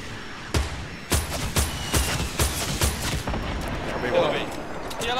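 Explosions and gunfire in the Fortnite video game: a run of sharp, loud blasts and shots at irregular intervals over a steady rumbling bed, with voices talking over the action.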